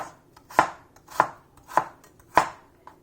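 A knife slices through an apple on a cutting board in four evenly spaced, crisp chops, close and clear with no talking.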